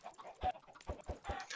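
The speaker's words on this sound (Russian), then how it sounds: "Чтобы здесь рождались цыплята." Chickens in Minecraft let out several short, quiet clucks at irregular intervals, close by and alone.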